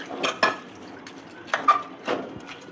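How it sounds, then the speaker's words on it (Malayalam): A spoon stirs a thick kappa biriyani mixture in a pot, making about five scraping, clinking strokes at an uneven rhythm, close and fairly loud, with no talk. "നന്നായിട്ട്"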